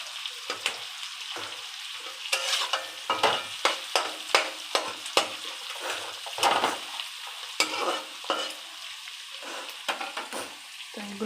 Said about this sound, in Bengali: তো এগুলো লাল করে ভাজা হবে